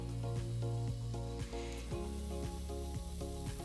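Spoonfuls of savory blini batter cook on a hot pan, giving a steady, close sizzle under a constant tonal musical bed with faint rhythmic pulses throughout.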